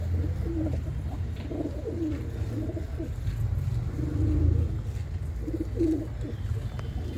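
A pair of khatti-eyed pigeons coos in repeated low, rolling phrases, close and moderately loud over a steady background hum.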